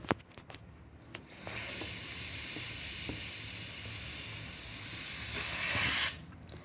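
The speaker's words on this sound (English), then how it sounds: "Now we are going to escape the air from the balloon." Air rushing out of a balloon as a continuous hissing stream that lasts about five seconds and ends abruptly, preceded by a few small handling taps, close and quiet.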